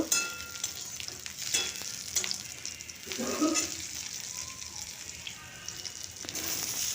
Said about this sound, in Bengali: পেঁয়াজটাকে আমি একটু নরম করে নেব